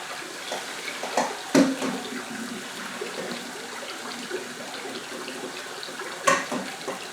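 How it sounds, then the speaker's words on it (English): Water from freshly cooked ramen noodles pours through a colander into a sink, a steady splashing run with a couple of louder gushes and clatters, close by, with no talking. "So I just used a colander to take the water off this ramen."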